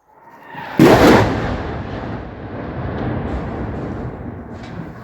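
A single heavy artillery boom bursts out suddenly during shelling in Kherson, then rolls and rumbles on for several seconds as it fades into the distance.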